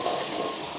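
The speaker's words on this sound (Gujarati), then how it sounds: "જીરું અને સૂકા મરચા. હવે નાખ્યું આપણે" Cumin seeds and dried red chillies dropped into hot oil, a brief loud, even hiss filling the moment, with no voices.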